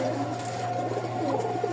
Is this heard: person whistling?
no